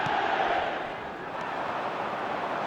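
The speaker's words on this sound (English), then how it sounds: "the crowd level has gone up a notch or 10" A packed stadium crowd roars after a Manchester United goal, a dense, sustained wall of cheering that stays loud throughout.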